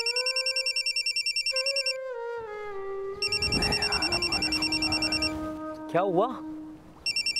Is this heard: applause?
no